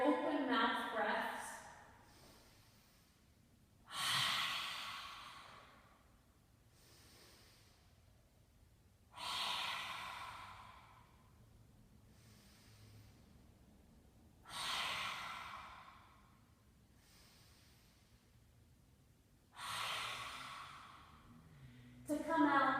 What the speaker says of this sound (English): We'll take 3 to 5 breaths here, open mouth breaths.